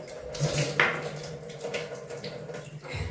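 Lemon water is poured into a plant pot, a short close splashing pour with a few light clinks and a low household background.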